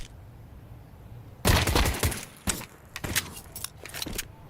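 Glock pistol fire in the Counter-Strike video game: a sudden cluster of sharp cracking shots, then several more separate shots at irregular gaps over a low background hum.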